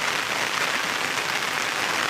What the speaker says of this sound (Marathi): खूप म्हणजे खूप जोरात पाऊस पडतो आहे कोकणामध्ये